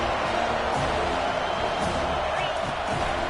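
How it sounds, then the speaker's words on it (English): A football stadium crowd cheers on third down, forming a loud, continuous roar that holds steady with faint scattered whoops, while a commentator talks over the noise. "Third down and the crowd really getting into it"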